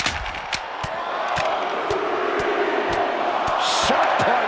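An arena crowd in the WWE 2K24 wrestling game roars during a backstage brawl between Jey Uso and Jimmy Uso, a steady wash of cheering punctuated by sharp, repeated impact thuds.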